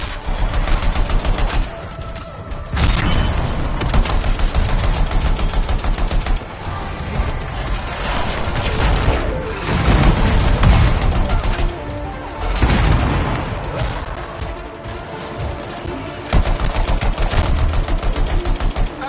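Sustained gunfire in the sci-fi shooter Anthem: dense, loud volleys of rapid shots with heavy booming impacts, running almost continuously with brief lulls between bursts.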